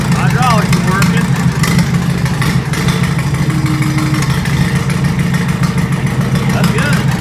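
A Farmall Super A tractor engine idles with a steady low rumble close by while someone talks over it.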